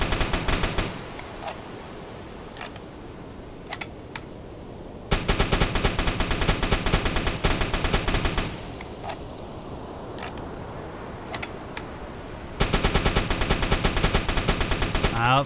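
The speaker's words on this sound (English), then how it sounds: "we'll use our anti-air gun to finish her off" A U-boat's anti-air gun in a submarine video game fires at a ship in rapid repeated bursts, loud and close, separated by quieter pauses with a few isolated shots.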